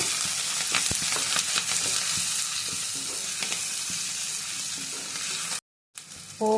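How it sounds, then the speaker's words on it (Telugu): Tempering spices sizzle and fry steadily in a pan for a Telugu rava chutney, with a continuous close crackle, occasional stirring clicks, and a brief silent break near the end. "పోపు మొత్తం బాగా వేగిందండి"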